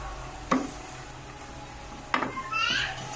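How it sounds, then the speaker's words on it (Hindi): Chutney ingredients fry lightly in a pan over a high flame, a soft steady sizzle with occasional sharp stirring scrapes, while someone talks throughout. "बस आपने इसी प्लेटर के अंदर इसको इस तरह से हल्का सा फ्राई करना है"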